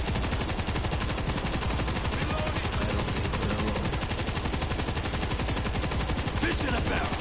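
Big guns fire in the World War Z video game as sustained, rapid automatic bursts, a dense rattling barrage that stays loud and steady from start to finish, with a few faint voices beneath.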